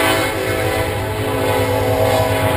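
A train passing close by near railroad tracks where someone is metal detecting, its loud, steady rumble and rolling wheel noise filling the whole stretch with a sustained horn tone running over it.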